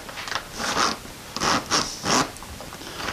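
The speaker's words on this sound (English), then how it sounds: "I got the zipper on." Zipper being pulled back and forth on a handmade tuna cooler fish bag, a series of close, crisp rasping strokes in uneven bursts, with no talk.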